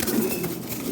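Lahori pigeons coo softly in low, rolling murmurs, close by and brief, with faint background rustle and no speech.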